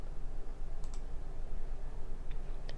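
A computer mouse clicking on a web page, a few faint, sharp clicks close together against low background hum.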